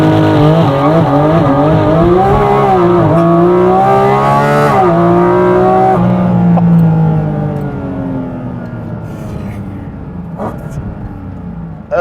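Honda Fit engine revving hard under acceleration on a track, a loud continuous drone rising in pitch through the gears, then easing off toward the end as the car settles, with faint tire noise.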